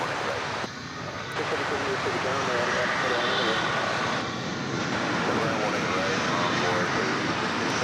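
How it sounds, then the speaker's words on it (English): An American Airlines Boeing 737-800 inbound from Guadalajara to DFW Airport, its jet engines giving a steady broadband roar that holds loud and even throughout, with a brief dip near the start. "We've got a flight from Guadalajara coming in, American Airlines flight 1034, 737-800."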